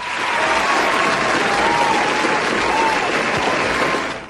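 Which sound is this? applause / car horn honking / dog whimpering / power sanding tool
applause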